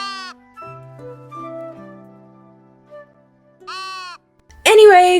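Sheep bleat in the cozy building game Star Equestrian: two loud, wavering bleats with clear pauses between them, low sustained game music beneath, then a sharper, harsher animal call at the very end.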